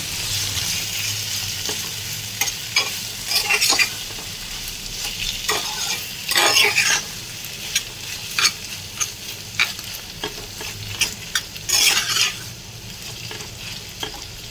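Mashed pointed gourd and green chili fry in a pan, a steady sizzle broken by repeated sharp scrapes and clinks of a spatula stirring over roughly fifteen seconds, no speech.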